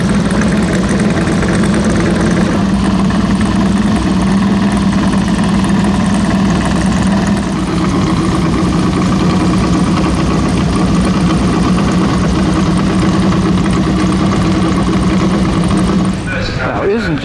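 A vintage Lancia race car idles roughly and unevenly at close range, its heavy engine drone steady and loud for about sixteen seconds before cutting away abruptly near the end; voices talk underneath the engine noise.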